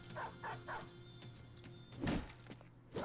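War dogs barking in Battle Brothers: a quick series of three yips followed by a louder bark and a growling snap, close and sharp over quiet game ambience.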